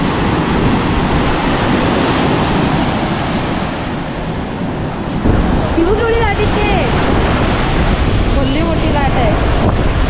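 Ocean waves roll loudly and continuously onto Mandvi beach under heavy wind buffeting on the microphone, with voices briefly heard over the surf.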